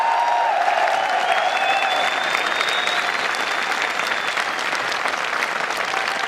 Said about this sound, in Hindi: एक बार जोरदार तालियां इनके लिए हो जाए।